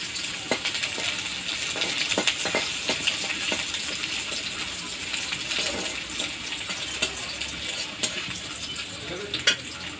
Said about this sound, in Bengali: প্রথমে পেঁয়াজ কুচি তেলের মধ্যে দিয়ে দেওয়া হলো।